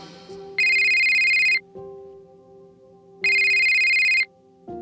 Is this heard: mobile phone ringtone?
yes